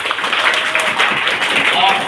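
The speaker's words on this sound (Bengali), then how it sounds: "তাহলে সর্বশেষ একটা হাততালি হয়ে যাক জোরে।" A group at a rescue training session claps loudly and continuously, dense applause mixed with voices talking over it.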